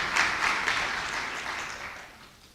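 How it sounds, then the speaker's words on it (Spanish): A church congregation gives loud applause during a sermon, a full bright wash of clapping that starts strong and gradually tapers off over a couple of seconds. "Dale un aplauso fuerte al Dios Todopoderoso."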